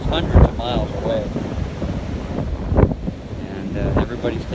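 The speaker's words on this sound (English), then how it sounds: "Very choppy, fast-moving waves." Choppy, fast-moving waves and gusting wind ahead of Hurricane Irma, a loud, continuous rush of surf with heavy wind buffeting the microphone and no one speaking.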